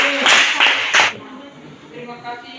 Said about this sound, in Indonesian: Kita tepuk tangan dulu untuk kelompok 5.